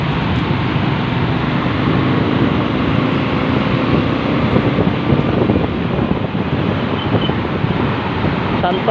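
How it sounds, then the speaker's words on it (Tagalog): Steady roar of fast motorcycles and cars on a busy Metro Manila city street near the Santolan MRT station in Pasig, a dense continuous wash of traffic and wind noise with no clear gaps. "Grabe po, ang bibilis po ng mga motor ngayon dito, mga sasakyan"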